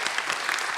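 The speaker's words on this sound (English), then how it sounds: "one last round of applause for Chancellor Gillman" A short, dense burst of audience applause at a community forum, loud and continuous, with no speech on top.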